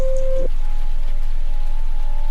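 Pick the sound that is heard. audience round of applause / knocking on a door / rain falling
rain falling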